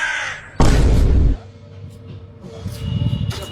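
A crow gives a single loud, harsh caw close by, followed by quieter outdoor background noise.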